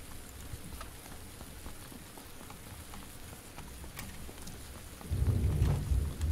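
Steady rain patters in a game world, with a heavier burst of rain or rumbling thunder swelling near the end; no one talks over it.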